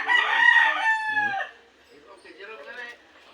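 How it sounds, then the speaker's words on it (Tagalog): A backyard rooster gives a loud, close crow that fades out, followed by quieter clucking and calls from other chickens. "Ito mga manok ka backyard"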